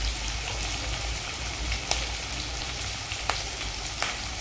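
Crushed garlic, onion and green chili fry in hot oil in a pan, giving a steady close sizzle with occasional sharper crackles and pops.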